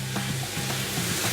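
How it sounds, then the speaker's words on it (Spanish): Green peas tumble into a pan of onion frying in oil, raising a steady broadband sizzle with a few soft scrapes of a spoon across the pan, close and continuous, with no voices. "Y ahora le vamos a adicionar nuestros guisantes"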